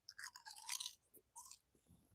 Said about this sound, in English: Listen how crunchy that is.